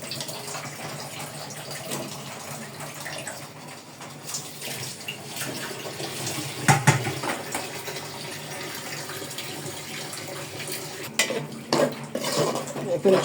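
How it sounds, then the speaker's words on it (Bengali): Chicken pieces stirred into cooked-down masala in a pan for a Bengali chicken and vegetable-stem curry, giving soft scraping and wet clinking for several seconds, near and moderately loud with no talking. "এখন চিকেনগুলোকে ভালো করে মশলার সঙ্গে নেড়ে ছেড়ে নিব।"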